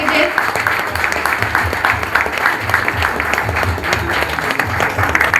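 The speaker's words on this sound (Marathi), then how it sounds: "प्लीज जोरदार टाळ्या झाल्या पाहिजेत।" An audience claps loudly and steadily at a police ceremony where DCP Purnima Chaugule hands recovered stolen goods back to their owners. The dense applause from many hands holds for several seconds without a break.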